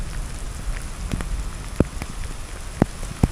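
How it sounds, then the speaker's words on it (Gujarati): Rain falls steadily in a Gir village on a stormy evening, a soft continuous hiss with a few sharper drips and taps landing close by. No voices are heard. "જો તમે અંજવારામાં તમને વરસાદ દેખાતો હોય છે"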